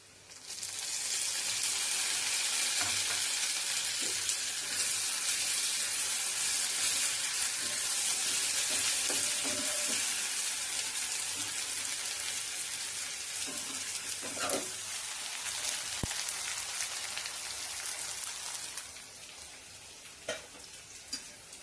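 Ginger paste fries in a pan with cashews and raisins, a loud continuous sizzle with scattered stirring clinks that eases off near the end, no voices.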